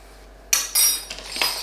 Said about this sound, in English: Use the back of the spoon to push the coffee into place.